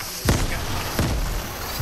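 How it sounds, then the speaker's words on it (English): Two sharp explosive bursts from a grenade going off in the Fortnite video game, roughly 0.7 seconds apart, each a broadband crack with a low thump, over a steady noisy game background. "She just threw a grenade"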